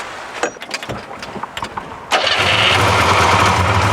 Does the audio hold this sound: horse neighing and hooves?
no